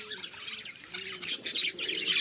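Captive Australian parrots kept alongside pigeons at a bird market chirp and tweet continuously, fairly near, with overlapping calls and no talk.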